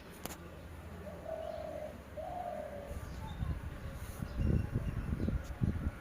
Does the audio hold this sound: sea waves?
no